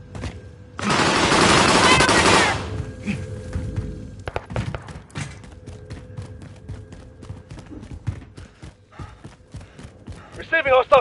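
Video game gunfire in a multiplayer shooter fight: a loud, dense burst early on, then scattered sharp shots and clacks at varying distance, with a brief voice cutting in.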